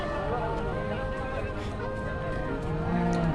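Cattle low at a night-time livestock market at Chittaranjan, with a continuous layered drone of moos and background murmur, fairly close and steady throughout.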